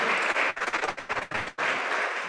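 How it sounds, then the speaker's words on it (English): Brief applause from a church congregation during Sunday worship, uneven bursts of clapping with short dips between them, moderately loud. "Could you applaud our young men?"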